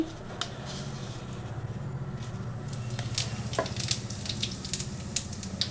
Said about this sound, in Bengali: একটু জিরে ফোড়ন দিয়ে দিচ্ছি